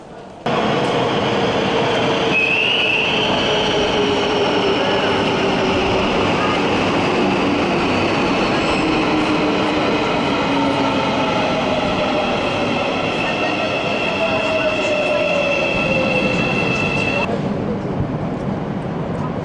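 A commuter train rumbles loudly and steadily through a tunnel in Istanbul, with high metallic wheel squeals drifting in and out, and a faint voice now and then.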